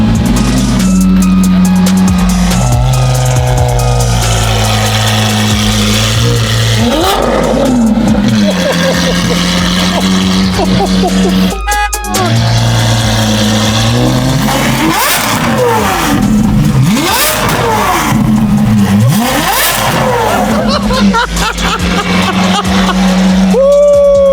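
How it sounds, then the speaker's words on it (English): A Lamborghini SVJ with a straight-piped Gintani F1 exhaust and flame tune revs hard and loud, with repeated sharp throttle blips and rising, falling engine howls; people talk underneath. "straight piped F1 Gintani exhaust"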